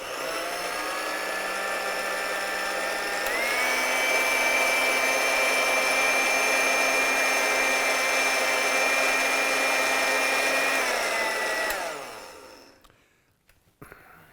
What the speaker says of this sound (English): Throw them in the blender.